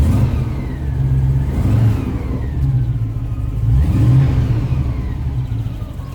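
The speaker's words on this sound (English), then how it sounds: "so I'll just have to press the throttle pedal behind." The engine of a 1972 Range Rover revs as its throttle pedal is pressed by hand, a loud, close engine note that swells twice and settles between presses.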